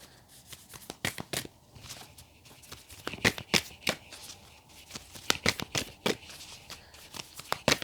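Tarot cards are shuffled by hand in a quick, uneven series of crisp riffling snaps and flutters, close and fairly loud, with no talking over them.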